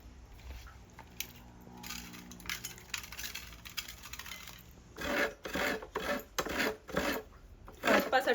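Fresh coconut, half a nut, grated by hand in a home kitchen for a Malvani fish curry: soft scraping at first, then loud, close rhythmic rasping strokes in quick bursts, with no talking.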